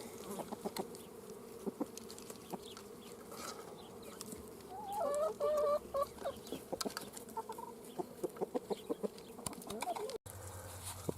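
A rooster gives a short run of clucks near a farmyard, fairly faint, under a constant buzz of insects and scattered outdoor clicks and knocks.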